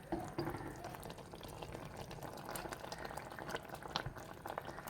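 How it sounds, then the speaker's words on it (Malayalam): Chicken curry with masala, onion and tomato bubbles in a pot, a soft, continuous simmering burble of small pops, close but quiet, with no talking. "ഇനിയൊന്നുകൂടി അതാ നന്നായി തിളച്ച് വന്നിട്ടുണ്ട്"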